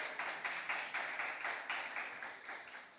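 A round of audience applause at an impromptu speaking competition, steady rapid clapping from a crowd lasting the whole stretch at moderate level, with no voices over it.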